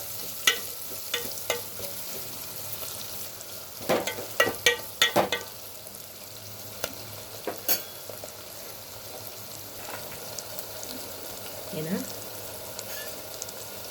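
Onions sizzle and fry in a hot pan for an egg curry with brinjal and potato, with steady crackling and a cluster of sharp scraping stirs partway through, close and clear, no talk.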